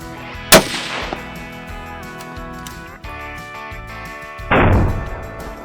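A Tikka T3X rifle in .243 Win, fired while rabbit hunting in the field, lets out one sharp, loud crack near the start that decays quickly, followed later by a second abrupt burst of noise over quiet outdoor background.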